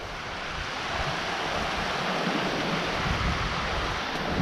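River water rushes beside a hiking trail, a steady, dense hiss-like roar that stays constant throughout, with no talking.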